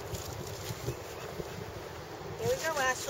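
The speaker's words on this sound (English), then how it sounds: "Oh, it's so windy." Wind gusts across a park pond where ducks and seagulls gather, making a steady low rumbling buffet against the microphone, and a voice speaks briefly near the end.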